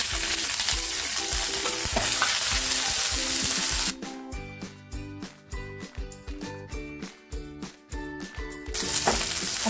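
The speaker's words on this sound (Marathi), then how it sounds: "पॅन तापट ठेवला होता थोडंसं तेल टाकते तेल तापलेलं आहे भेंडी टाकते" Okra dropped into hot oil in a pan, giving a loud, dense sizzle that shifts after a few seconds into rhythmic stirring scrapes and bursts of frying crackle, close and alone.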